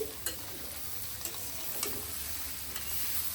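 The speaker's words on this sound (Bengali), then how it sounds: "এদিক দিয়ে দেখেন করলা ভাজি" Bitter gourd (karela bhaji) fries in oil with a constant crackling sizzle, broken by a few light scraping stirs at intervals.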